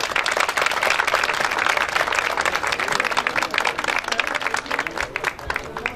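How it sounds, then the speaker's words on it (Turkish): Applause for the newlyweds at a wedding, a loud, busy patter of many hands clapping steadily for the full stretch, with faint crowd noise beneath. "Bir alkış daha gelsin mi onlar için?"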